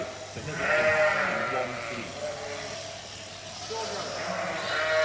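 Sheep bleat while being held for shearing, with two loud nearby bleats at the start and end over a low mechanical hum and talk.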